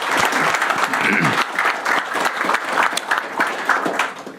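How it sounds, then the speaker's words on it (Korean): Applause for the prime minister at a Korean cabinet meeting: a dense burst of clapping from a room of people fills the clip, loud and sustained. "우리 총리님한테 박수 한번 쳐주시죠."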